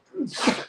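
A single sharp human sneeze, close and fairly loud, with a short intake followed by a bright burst that fades within a moment.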